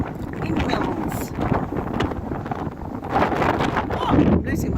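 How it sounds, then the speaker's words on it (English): Strong, freezing cold wind buffets the microphone on a coastal headland near a castle, a continuous loud roar and rumble with gusts swelling toward the end, while a person talks over it. "Freezing cold wind as well."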